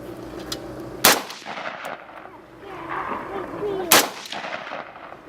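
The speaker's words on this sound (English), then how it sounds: "Can I shoot the barrel? Yeah, you can shoot the barrel." An LWRC rifle fires two sharp, loud shots at a barrel, spaced about three seconds apart, with people talking quietly around them.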